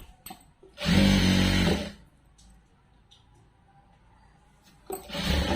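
A sewing machine stitches a dress, giving two loud, steady bursts of fast mechanical whirring close by, separated by a quiet pause of a few seconds.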